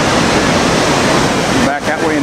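Niagara Falls roars as water pours off the cliff, a loud, continuous broadband rush close by, with a brief voice-like sound near the end.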